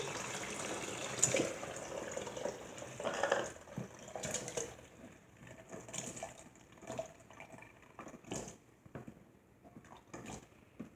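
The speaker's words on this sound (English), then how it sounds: "I'm going to take my piccadilly and I'm going to pour my cucumbers and solution in." Sliced cucumbers and pickling solution poured from a container into a Pickle-a-Deli, with irregular splashing, sloshing and soft clunks of vegetables against plastic, fairly quiet and close.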